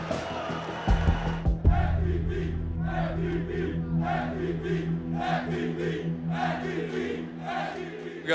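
A EuroLeague basketball home crowd jeers and shouts at an opposing player as he walks to the sidelines, a sustained roar of many voices that swells after a sharp opening burst and rolls on in waves.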